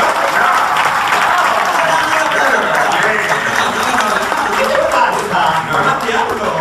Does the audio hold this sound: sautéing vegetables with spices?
no